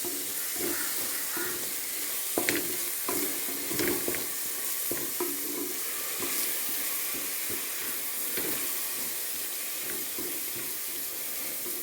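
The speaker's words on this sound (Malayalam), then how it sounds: "വീണ്ടും നമുക്ക് ഇളക്കാം." A spoon stirs food with curd in a pan while it cooks, giving soft scraping and clinking at an irregular pace over a low sizzle, close and quiet with no talking.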